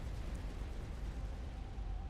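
A commander unit exploding in the real-time strategy game Supreme Commander: Forged Alliance, heard as a steady, dense low rumble of blast noise that fills the whole stretch without clear separate hits.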